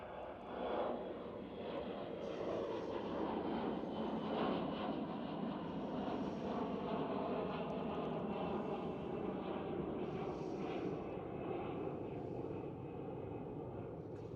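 KLM Cityhopper Embraer E175 regional jet at Amsterdam Schiphol, a steady broadband engine roar holding at moderate loudness throughout with slight swells, heard from a distance outdoors.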